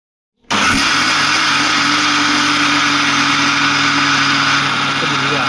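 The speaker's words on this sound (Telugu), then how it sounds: "నైటే మనం మిక్సీ చేసి పెట్టుకోవాలి." A mixer grinder whirs loudly as it grinds soaked millets and rice into idli and dosa batter, switching on abruptly and running as a steady, close, high-pitched roar.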